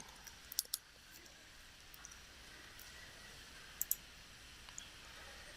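Sharp little clicks from a computer mouse, a quick double click early on and another pair a few seconds later, close and crisp over a steady faint hum.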